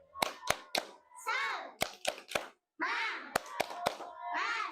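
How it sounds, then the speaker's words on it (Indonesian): Children's voices chant the Indonesian tepuk semangat clapping routine in a preschool role-play, with sharp hand claps landing in short rhythmic bursts between sung phrases, close and fairly quiet. "coba tepuk semangat"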